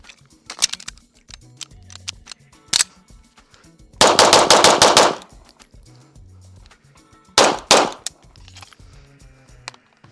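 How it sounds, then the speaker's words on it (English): Firearm emptying the remaining magazines at a range: scattered single shots, then a loud rapid string of about eight rounds, a pause, and another close burst of several shots. "I'm gonna dump the rest of these mags."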